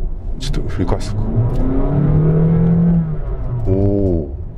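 A Honda Fit 4 hybrid's engine hums, then its pitch climbs as it revs under acceleration on an urban expressway, heard from inside the car with occasional talk.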